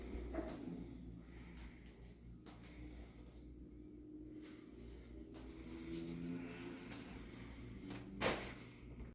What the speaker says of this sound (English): It's a sliding door.